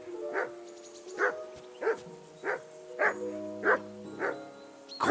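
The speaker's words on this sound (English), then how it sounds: "Do something with that mutt, Henry. It's doing my head in." Dog barking in the medieval video game Kingdom Come: Deliverance 2, about eight evenly spaced barks across a few seconds, fairly close and clear, with a low sustained musical tone beneath.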